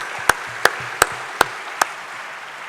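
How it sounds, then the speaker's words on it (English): Audience at a plenary roundtable gives presenters a thin round of applause: five sharp, evenly spaced claps, close and distinct, with no talking. "let's please give them a round of applause"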